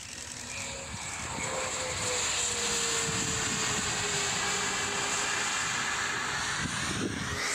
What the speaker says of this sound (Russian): Буквально полчаса назад здесь, в Омском аэропорту, приземлился лайнер из Нового Уренгоя.